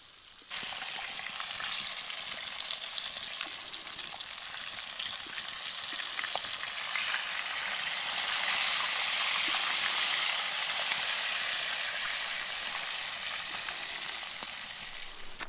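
Dinner sizzles and fries steadily in a pan beside a campfire during a van camping trip, a dense, continuous hiss close by that swells slightly midway, with no talking.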